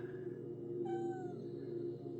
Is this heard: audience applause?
no